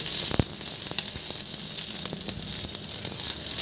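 Sliced onions sizzling as they fry in a pan for aloo dopyaza, a continuous bright hiss with a few faint scrapes and pops, close and steady throughout, with no talking.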